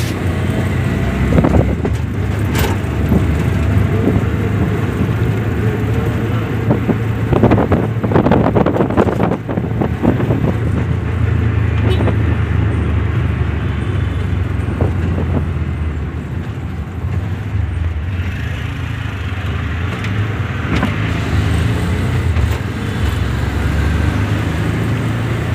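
Auto rickshaw ride through traffic in Nashik, with a steady engine rumble and road noise throughout, wind buffeting the microphone, and occasional louder passing vehicles and bumps, no talking.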